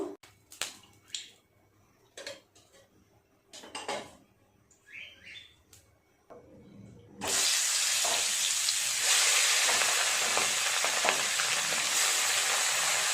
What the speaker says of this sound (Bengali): মাছের মাথাটা উল্টে পাল্টিয়ে ভালো করে নেড়ে চেড়ে ভেজে নেব